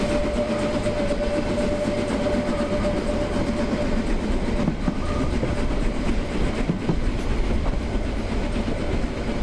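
Continuous loud rumble of a Harz narrow-gauge train running on the Selketalbahn, steady wheel clatter and carriage noise throughout with a faint tonal whine, close by and without talk.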